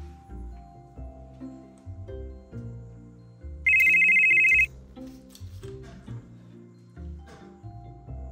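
A telephone ringtone bursts out loud for about a second as a bright, steady electronic tone, alone over a quiet background of low music.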